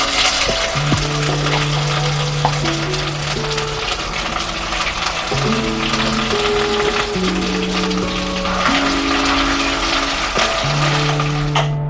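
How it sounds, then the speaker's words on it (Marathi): Homemade ground masala paste roasts in a pan after a garlic tempering, frying for a crab curry. Steady sizzling and occasional clinks of a spoon run under louder background music, with no speech. "त्यानंतर आता हे वाटण भाजून घेऊया."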